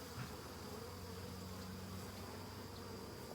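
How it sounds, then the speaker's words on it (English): A swarm of honeybees buzzes around a hive box, a dense, steady, continuous hum of many wings, faint and even throughout with no talking. "Can you imagine looking for one bee in a stack of bees like that?"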